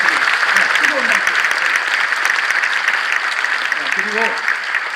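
A church congregation gives warm applause for the pastor and his wife at an anniversary ordination service, a continuous loud clatter of clapping with voices calling out briefly beneath it.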